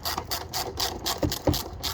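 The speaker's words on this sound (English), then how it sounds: "you can also use an 8mm socket to loosen this up" An 8mm deep socket on a ratchet loosens a bolt on a 2015 Dodge Durango Limited V6, giving quick close clicking ratchet strokes in a short burst, with no talk.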